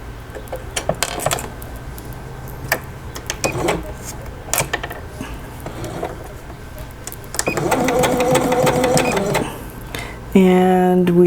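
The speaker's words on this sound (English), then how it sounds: "we should be back stitching so that we don't lose the stitch as we're going" A sewing machine stitches fabric for a glasses or pencil case, running in short bursts and then a longer steady whir while back stitching, with clicks of the mechanism and a voice talking between runs.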